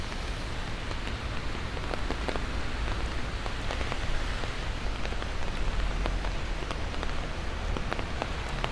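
Steady rain pours onto a Midtown Manhattan street at night, a dense, continuous hiss with scattered drops ticking on nearby surfaces and no voices.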